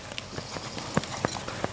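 A three-year-old gelded Lusitanian horse walks at a steady pace, hooves clip-clopping in a regular rhythm at moderate distance.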